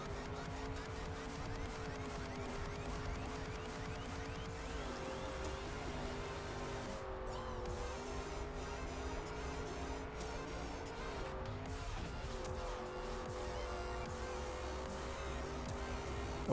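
The Desert Car in TrackMania races a tech track: the engine drones continuously with pitch sweeps through turns, plus brief tire-skid bursts, steady and close throughout.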